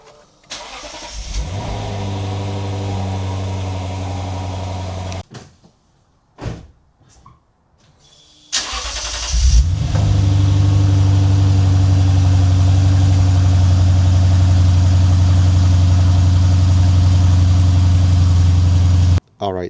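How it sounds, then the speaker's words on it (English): A Lexus RC F on its stock exhaust is heard close up. A door thuds, then the engine runs with a deep hum, goes briefly quiet, and fires up again with a sharp flare before settling into a loud, steady idle. "let's go ahead and fire up the car on the stock exhaust"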